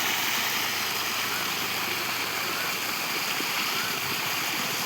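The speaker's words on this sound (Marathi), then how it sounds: "हे पाणी पार इकडं खाली जाऊ राहिलं." Water from a village stream rushes down over rocks nearby, a steady, loud, unbroken hiss and gurgle with no voices.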